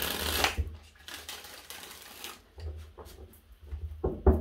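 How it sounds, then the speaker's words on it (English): Tarot cards shuffled by hand in a quiet room, several papery riffling bursts with soft thumps of the deck, close and moderately loud, with brief pauses between passes. "5 shuffles."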